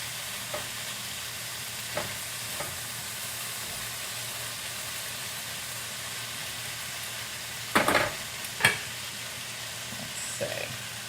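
Chicken with peaches and rosemary frying in a skillet over medium to medium-low heat, a steady close sizzle with a few sharp clinks and stirring sounds near the end.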